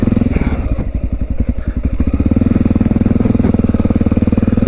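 Honda XR650L dirt bike at a roadside turnout, its single-cylinder engine idling close by with a loud, lumpy, rapid thumping rhythm that steadies into an even beat.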